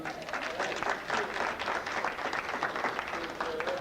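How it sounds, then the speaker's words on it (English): A crowd claps and applauds steadily, a dense patter of hands with a few faint voices mixed in, fairly close and lively. "Y'all give him a nice round of applause, huh?"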